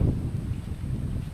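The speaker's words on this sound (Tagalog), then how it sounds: "So ngayon maulan sa sobrang lakas ng hangin" Strong wind at a rainy mountaintop campsite in Tagaytay roars as a steady low rumble, buffeting the microphone throughout with no voices over it.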